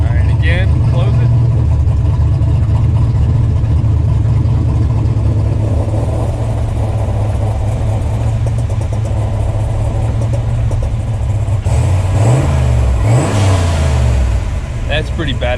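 A 1986 Mustang GT engine running with its electric exhaust cutout open: a loud, close, throaty drone that holds steady, then swells into a few rising and falling revs near the end.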